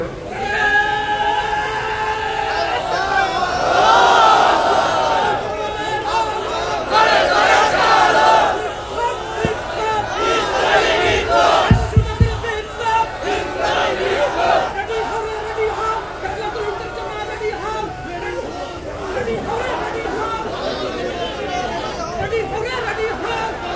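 A crowd of young men at a religious sermon gathering shouts takbir battle cries in loud, swelling waves of massed voices, with a lead voice and crowd chatter mixed in.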